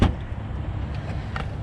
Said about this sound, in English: Let's pop the boot.